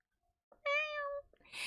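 A single close, clear cat meow rises and holds for about half a second in a quiet room, followed by a brief rustle.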